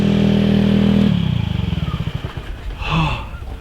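A motorcycle engine idles steadily, then shuts off with the key as its low drone breaks into slowing, sputtering pulses that fade out, followed by a brief clatter.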